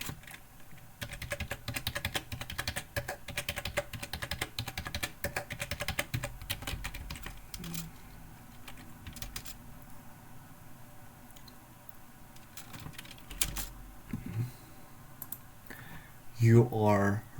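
Computer keyboard being typed on in bursts of quick, close clicks with pauses, a voice talking underneath, and a few louder knocks near the end.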